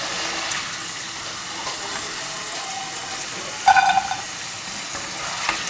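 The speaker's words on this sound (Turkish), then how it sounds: "Ve patatesimizi kızartmaya başlayacağız arkadaşlar." Steady crackling sizzle of potatoes frying in hot oil, continuous throughout with a brief louder burst of spattering midway.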